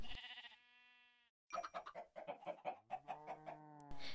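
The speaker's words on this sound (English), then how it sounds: "Yay, it's a regular chicken." Minecraft chicken giving a short run of clucks and squawks, fairly close and loud, following a brief tonal tone at the start with a quiet gap before the bird sounds.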